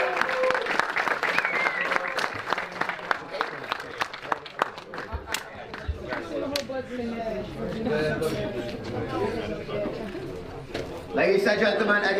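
Spectators at a competition results ceremony, with Polish winners announced, give a round of applause. Scattered sharp claps ring out over a continuous crowd wash, with voices and announcement sound running underneath.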